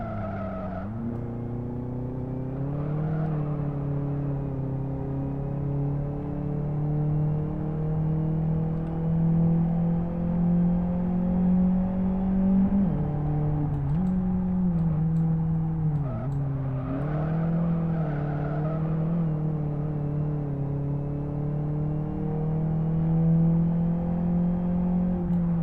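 A VW Gol GTI in Live for Speed revs and accelerates around a racetrack, its engine note rising and falling steadily through corners with brief dips as it shifts, loud and continuous with no talking.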